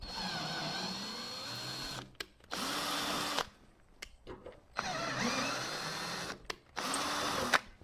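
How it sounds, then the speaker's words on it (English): A hand drill drives a thread tap into a steel part for a custom computer mod, whirring in three sustained bursts separated by short pauses and clicks, close and steady. "For steel, I run the tap with the drill."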